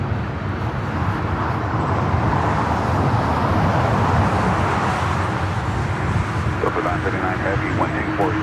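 ANA airliner taking off from LAX's north side, a loud, steady broadband jet engine roar sustained throughout with distant traffic noise mixed in.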